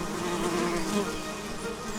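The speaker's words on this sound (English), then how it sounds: "It is the stingless bee" Stingless bees buzz continuously around a nest inside a broken electric box on a home terrace, a steady close-up insect drone with no break and no voices.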